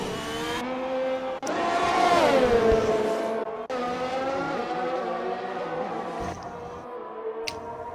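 Haas F1 car engine in the F1 2021 racing game at Austria, a loud whining race engine that climbs sharply, drops, and revs again in bursts, with faint tire squeal and no talk.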